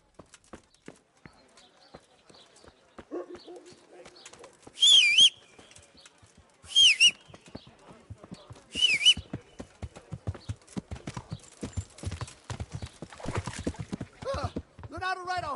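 Horse hooves clip-clop steadily on the ground in Kingdom Come: Deliverance, the hoofbeats growing denser and louder toward the end, with a few bright whistle-like calls earlier and voices talking over them.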